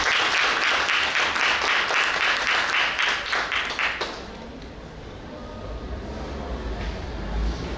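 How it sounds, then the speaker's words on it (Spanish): An audience at a university literature event in Paraguay applauds loudly for several seconds, a thick rapid clatter of many hands that cuts off abruptly halfway, leaving quiet room murmur and low rumble. "Un aplauso para ellas"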